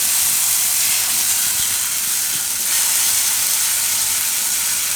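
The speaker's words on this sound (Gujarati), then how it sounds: "તો તેલમાં આપણે નાખીશું મરચું કાશ્મીરી કલર માટે અને તરત ગ્રેવી નાખી દઈશું." Kashmiri chili powder and gravy hitting hot oil in a pan, giving a loud, steady, close sizzle and hiss that holds without a break.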